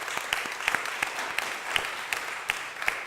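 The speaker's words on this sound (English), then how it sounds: "let's applaud Philadelphia's housing counselors" A modest audience at a Philadelphia mayor's press conference applauds steadily, with individual sharp claps standing out over a continuous, moderately quiet patter.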